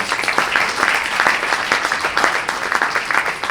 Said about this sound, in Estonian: teeme sooja aplausi